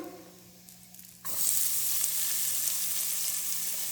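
Cinnamon and chopped onion hit hot oil in a pan for chicken pepper fry, a quiet hum giving way after about a second to a sudden loud, steady sizzle that continues to the end.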